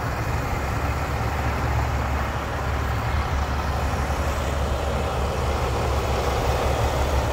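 A 2020 Ram 3500 dually pickup with the 6.7 liter Cummins engine idles with a steady, loud, low diesel rumble that stays even and continuous throughout, with no talking.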